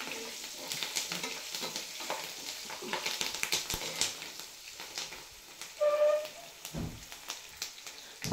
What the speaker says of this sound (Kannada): ಹಸಿಮೆಣಸಿನ್ಕಾಯಿ ಸ್ವಲ್ಪ ಫ್ರೈ ಆಗಿದೆ